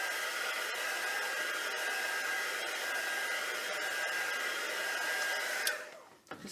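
Hair dryer blowing continuously at close range to dry ink sprayed on a stencil, a loud steady whoosh that cuts off near the end.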